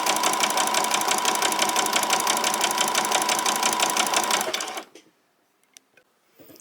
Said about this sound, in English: I'm going to do some back stitches just to hold that very end in